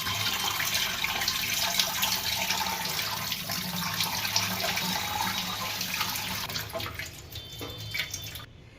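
Greens for a Saurashtra-style gathiya green chutney, such as mint, spinach and coriander, rinsed under a running tap. The steady water rush runs loud and close for most of the clip and eases near the end.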